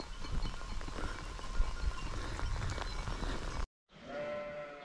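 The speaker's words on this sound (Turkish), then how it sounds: "Koyunu da salamıyorum. Yeni koyunlar var." Sheep bleating on a mountainside amid steady rain and outdoor noise, then a brief silence followed by a clearer, drawn-out bleat.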